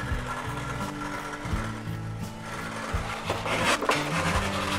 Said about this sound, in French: Je découpe donc ce gabarit.